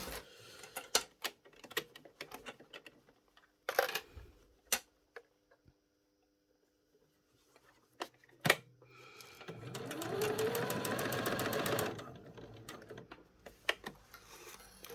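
A sewing machine runs a stitch line along a school blazer lapel, in short bursts and scattered ticks, then one steady, fairly close run of several seconds with no one speaking.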